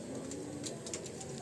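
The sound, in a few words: pet pigeons cooing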